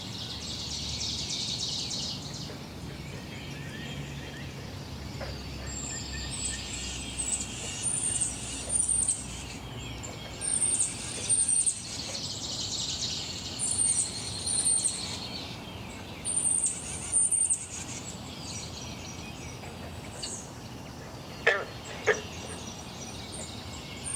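Outdoor ambience dense with bird calls and a constant high insect hum, with repeated bursts of chirping and a couple of sharp calls near the end.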